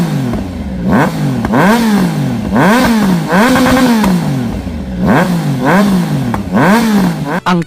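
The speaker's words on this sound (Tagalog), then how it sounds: "Asahan talaga natin na may malahalimaw na sounds ang bike na ito." A Triumph Tiger Sport 660 with its 660cc inline three-cylinder, dual-overhead-cam engine revs loudly and close up, rising and falling through repeated throttle blips with a deep, gruff exhaust note and no talking.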